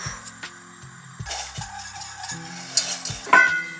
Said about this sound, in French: On mélange bien entre chaque ajout